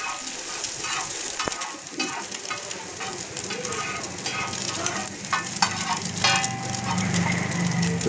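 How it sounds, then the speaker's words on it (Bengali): An egg cracked onto hot oil at a roadside chowmein stall sizzles loudly and steadily, with metal stirring clatter and sharp scrapes over busy street background noise. "ডিমটা তেলের উপর দিল সেই কীরকম আওয়াজ হয়ে উঠলো"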